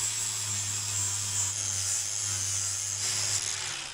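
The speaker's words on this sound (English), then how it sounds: "So once we grind this down with the flap disc, I'll come back in with the DA sander and we'll clean it up." An abrasive flap disc grinds down a butt weld on steel roll cage tubing, a loud continuous high-pitched rasping whine over a low motor hum, held steady for the whole stretch without pause.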